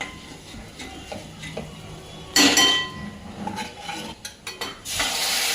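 Peanuts and red chilli powder being stirred in a pan, scattered light scrapes and clinks of a spoon against metal, a few louder knocks, and a rising sizzle near the end, with no talking.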